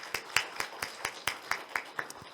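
A church congregation claps in encouragement during a Sunday worship service, a sparse, fairly quiet run of about ten separate claps with uneven spacing and no talking.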